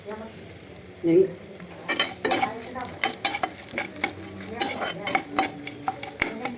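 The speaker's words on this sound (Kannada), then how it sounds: "ಇದು ಒಗ್ಗರಣೆ ಮಾಡ್ತಿದ್ದೀನಿ ರಸಮ್ಗೆ" Spices crackle and sizzle in hot oil as a tempering for tomato rasam, with a spoon stirring and scraping against the pan in repeated clinks and a steady frying hiss throughout.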